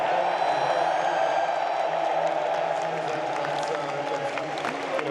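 Dense crowd roar at a Counter-Strike Major esports event in Austin, a steady loud wash of cheering and applause from a large arena audience, sustained throughout with no clear single voices.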